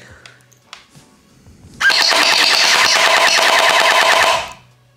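A rapid, continuous burst of gel blaster toy gun fire lasting a couple of seconds, loud and close, after a few faint clicks.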